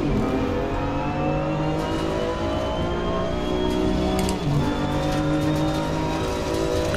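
BMW M2 CS engine held flat out in the Assetto Corsa Competizione racing game, a steady loud droning roar with pitch climbing smoothly through the gear, continuous with no talk.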